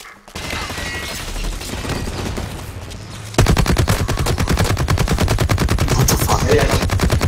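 Light machine gun firing in a video game, a long sustained burst of rapid, loud automatic shots that grows denser and louder partway through, with no one talking.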